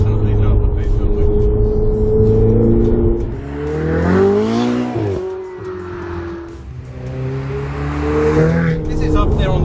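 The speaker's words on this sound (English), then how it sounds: "It's like it just wants to go through the rev range. It keeps revving up." A 2016 Ferrari 488 GTB's turbocharged engine revs up through the range in loud, close pulls, its pitch rising and dropping with gear changes across several surges, with someone talking over it.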